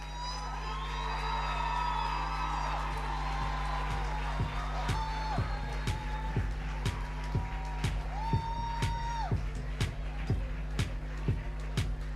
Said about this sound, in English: Kindly, may we give them a huge round of applause.